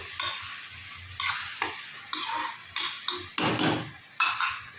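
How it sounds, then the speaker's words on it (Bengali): A spoon scrapes and stirs food around a sizzling frying pan in repeated strokes, roughly one every half second to second, over a steady background fry. "ভালো করে সুন্দর করে নাড়াচাড়া করে নিয়ে"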